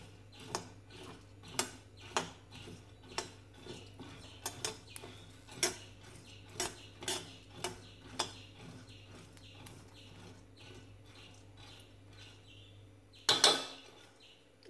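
A spoon scrapes and taps against a pan as urad dal is stirred and roasted until brown for Kerala-style chammanthi podi, giving a steady series of light clicks with a louder clatter near the end.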